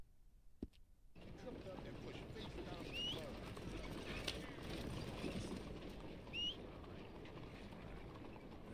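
Horse hooves clip-clop in the Red Dead Redemption 2 video game, a faint, steady stream of hoof beats over a quiet outdoor ambience, with a couple of brief higher chirps along the way.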